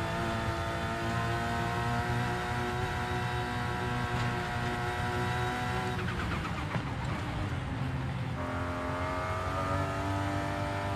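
A Toyota Supra race car's engine drones loudly on track, a sustained high-revving tone that dips as the car brakes hard, then climbs again.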